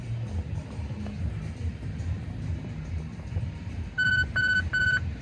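Fitness bleep test signal: a run of three short, loud electronic beeps near the end, sounding over steady outdoor ambience and faint movement.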